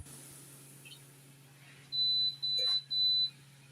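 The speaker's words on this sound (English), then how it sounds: "that was my oven beeping at me" Three steady electronic beeps in a row, each lasting about half a second, loud and close, after a quiet stretch with a few faint background sounds.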